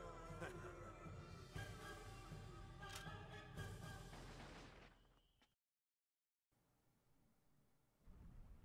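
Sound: gunshots in a video game cutscene

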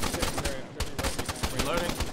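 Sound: gunfire with tracers in the video game ARMA 3

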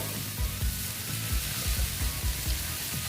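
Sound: sautéing young jackfruit with egg in a pan

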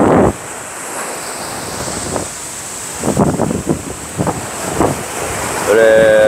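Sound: sea waves breaking on the shore

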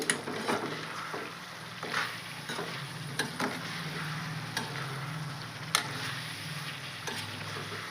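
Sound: stirring garlic and coriander powder frying in a pan

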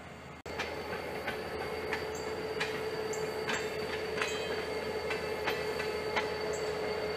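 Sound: train arriving in rail yard

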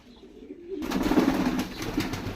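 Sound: pigeon cooing

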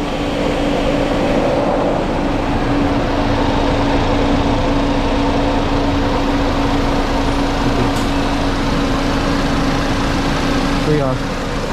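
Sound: Haval H9 SUV engine idling

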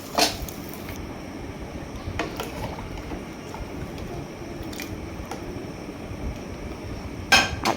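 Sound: stirring rice and lentils in a cooking pot

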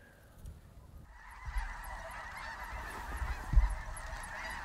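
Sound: flock of snow geese honking

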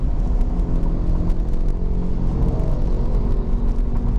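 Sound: Ford Ka Sedan 1.5 automatic engine accelerating

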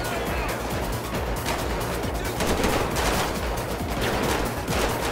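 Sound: gunfire in video game GTA 5

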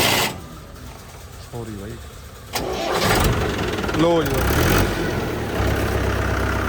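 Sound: Swaraj 575 tractor engine starting

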